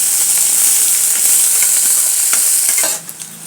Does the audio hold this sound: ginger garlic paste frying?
yes